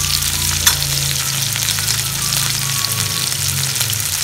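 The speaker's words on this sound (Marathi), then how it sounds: "कढईमध्ये तेल टाकून गरम करून घेतलेलं आहे। त्यामध्ये कांदा टाकतो, थोडेसे जिरे," Onion, cumin and mustard seeds fry in hot oil in a kadai for sambar, a loud, steady, close sizzle with occasional stirring scrapes and no talking.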